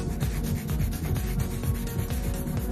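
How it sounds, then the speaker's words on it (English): A 100 grit file rubs back and forth across fingernails in quick, steady scratchy strokes, close and quiet, with no talking. "So I'm using a 100 grit file right now."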